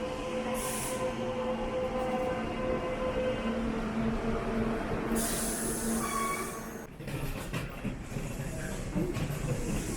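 A decorated train idles at a station in Osaka with a low rumble and steady hiss, brief tones and faint clanks, and a quieter shift near the end.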